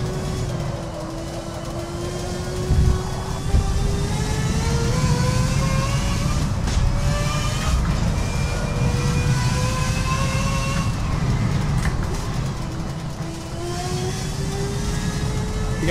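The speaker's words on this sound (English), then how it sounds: "I just wish the engine sounded a little bit more like it was rattling my brain" A car engine in the racing game Forza Motorsport 7 runs steadily for the whole stretch, its pitch climbing and falling through gear changes, loud and continuous with no talk over it.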